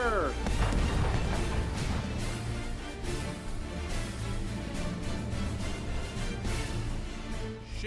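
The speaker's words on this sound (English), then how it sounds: "Ready the cannons!" Booming cannon-like blasts from a pirate ship sound dense and continuous over a thick rumbling bed, loud throughout, with crashes and impacts layered in and voices mixed underneath.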